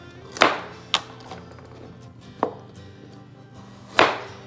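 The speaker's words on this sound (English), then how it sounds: "I have to slice this in a thin pieces first" A knife slices carrots thinly on a cutting board, giving four sharp, separate chops at uneven intervals, close and clear against a quiet background with faint music.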